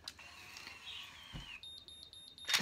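A ConAir Infinity hair curler gives a short series of quiet, evenly spaced electronic beeps, starting partway through after a soft hiss and a brief thump, fairly close and alone without talk.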